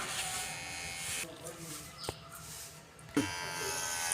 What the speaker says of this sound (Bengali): এটা নতুন মেশিন আগেরটা দিয়ে ন্যাড়া হয়ে যেত আর এবারেরটা চুল থাকবে